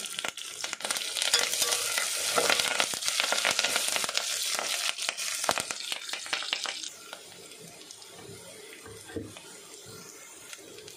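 Curry leaves dropped into onions frying in a pan for a Nanded-style tamarind varan, giving a loud, bright sizzle that rises and then settles to a quieter crackle, with no talking.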